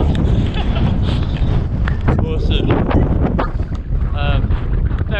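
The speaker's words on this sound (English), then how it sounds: "even with the wind" Strong wind buffeting the microphone outdoors on a morning ride in Wales, a loud continuous roar with gusty rumble that stays dense throughout, with a voice speaking over it.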